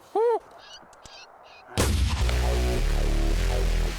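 A rifle shot fired at a red fox during a Maryland predator hunt cracks loud and close after a quiet stretch, then rolls away in a long echoing boom; a short electronic call sounds faintly beforehand.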